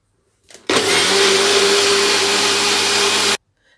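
A kitchen blender grinds kiwi juice with ice and sugar, a loud, steady motorized whir that starts abruptly, runs close and constant for under three seconds, then cuts off sharply.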